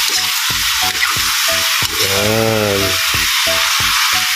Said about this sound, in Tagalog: Kailangan lang po natin igisa ang karne.